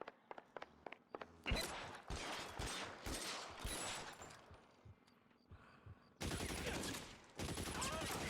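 Video game gunfire in L.A. Noire comes as rapid bursts of pistol and machine-gun shots, dense and loud, with a brief lull before heavy volleys resume, and a voice talks in between.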